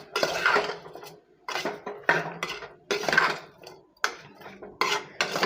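Vegetables with rock salt stirred in a metal pot for white kurma, a ladle scraping and knocking against the pot in repeated bursts of clatter, close and loud, with no talk.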